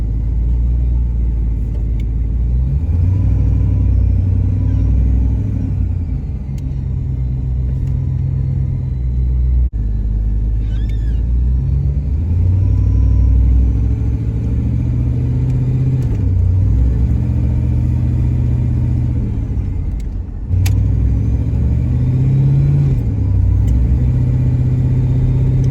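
A 1978 Chevrolet Caprice Aerocoupe drives along with a loud, steady interior engine rumble and road roar, its pitch rising and falling through the gear changes of a hard-shifting transmission.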